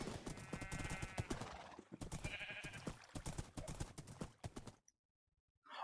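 Horse hooves clip-clop rapidly in steady galloping rhythm during a video game race, loud and close with game sounds layered over them, cutting out abruptly near the end.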